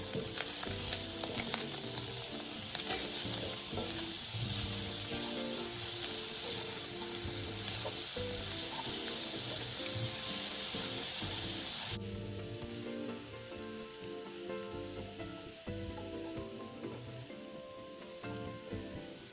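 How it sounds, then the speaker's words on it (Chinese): Carrot and green papaya shreds stir-fried with minced pork over medium-high heat give a steady, close sizzle with scraping stirs throughout, easing slightly quieter partway through. "再将预先备好的胡萝卜、青木瓜丝全部倒入， 炉转中高火，与肉末一起稍微拌炒"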